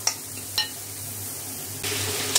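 Spices dropped one by one into a pan of lightly fried onions, giving a steady soft sizzle with a few brief clinks of a spoon or spice container against the pan and a louder burst of frying near the end.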